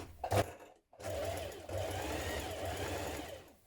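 Sewing machine stitching around the neckline of a tiered dress about 7 millimetres inside the seam allowance: a short burst, a pause, then a steady close mechanical whirr of rapid stitching.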